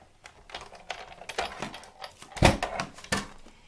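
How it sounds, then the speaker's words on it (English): A Big Shot die-cutting machine runs a layer of cardstock on a standard cutting pad through its rollers to cut out a circle, giving a close series of uneven mechanical clunks and creaks that build to a heavier thump partway through. "I'm going to run it through the Big Shot and die cut that circle out."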